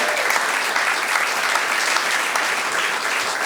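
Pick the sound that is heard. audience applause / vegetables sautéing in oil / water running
audience applause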